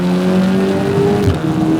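A 400 bhp Audi S3 pulls hard along narrow back roads, its engine droning loud and close from inside the cabin, the pitch holding and then shifting briefly as it changes gear.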